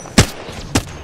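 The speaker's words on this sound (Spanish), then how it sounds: "Por la derecha tiros." Two sharp gunshots from the video game Apex Legends, about half a second apart, loud and close with a short decay.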